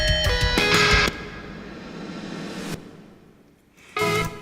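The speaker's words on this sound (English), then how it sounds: "Let's move on to the reverse snare now." A reversed snare sample in electronic music production swells gradually out of a beat and cuts off sharply, then the drum loop returns, all fairly quiet with no voices.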